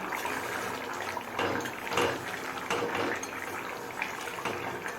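Hilsa fish head and ol (elephant foot yam) curry with potato being stirred over a high gas flame, a continuous bubbling, watery sizzle with occasional louder scrapes and splashes, close and steady, with no talking.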